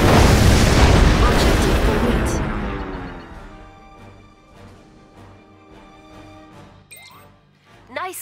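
Allied airbase blown apart in Red Alert 3, a loud booming explosion that rolls and fades over several seconds, followed by quieter crackles and a game voice announcement, with a fresh burst near the end.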